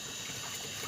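Water rushes steadily from a tap or pipe into a container at home, a constant close gushing hiss with no talking over it.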